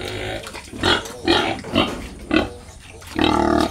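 A sow in her pen grunts and squeals in five or six loud, close bursts spread across a few seconds, with quieter rustling in between and no voices.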